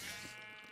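A sheep pet bleats in the Minecraft game Hypixel SkyBlock, one short, close, steady call lasting under a second with no talk over it.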